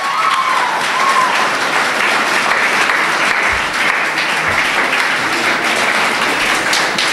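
A school award show crowd at GIBS Lower Dir claps in sustained, loud, even applause that fills the hall for several seconds, with faint voices beneath.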